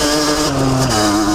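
Motorcycle engine running at moderate, restrained revs on a break-in ride, a loud close steady hum with a slight downward pitch drift.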